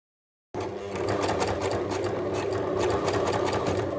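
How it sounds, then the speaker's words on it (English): A serger runs continuously while sewing a lingerie gusset seam, starting abruptly after a brief silence and holding a fast, steady mechanical whir at close range. "For the other side, I serge it to get a clean finish."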